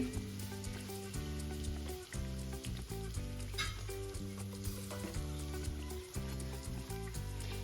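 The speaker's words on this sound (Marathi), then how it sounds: "छान आलटून पलटून छान गोल्डन कलर येईपर्यंत पुरी तळून घ्यायची आहे" Masala puri deep-fries in hot oil until golden, a constant bubbling sizzle close up, heard under loud background music with a regular beat.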